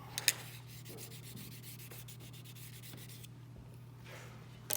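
A card scraper is wiped across a fine diamond sharpening stone in a steady, quiet, continuous rubbing stroke over a low electrical hum, with a couple of light taps at the start and end.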